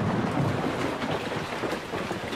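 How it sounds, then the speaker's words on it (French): Steady rain hisses down with a low, rumbling undertone like distant thunder, a continuous wash of noise with no voices. "Voilà la pluie qui se met à tomber. On en était au 37e jour de moisson. Tu as entendu le tonnerre, Filou?"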